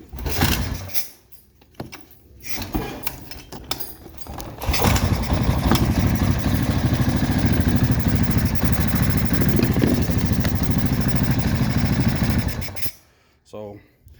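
Honda Rancher 350 ATV engine idling steadily after a pull start, with no starter fitted; loud and close, an irregular start before a continuous run that cuts off near the end.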